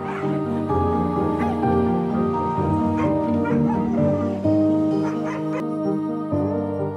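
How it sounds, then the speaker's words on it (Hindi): Dogs at a shelter housing about 400 animals, a tumult of overlapping barks, yips and whimpers from several dogs at once, loud and close, with short gaps and fresh bursts throughout. "आपने देखा ये कुत्ते ही अब डॉग अम्मा का परिवार हैं"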